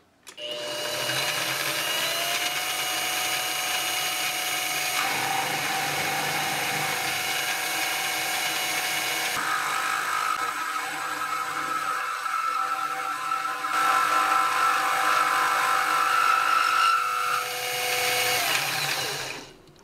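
A metal milling machine fitted with a half-inch router bit cuts wood held in a jig, giving a loud continuous whine with shifting pitch and grinding that runs throughout and swells near the end.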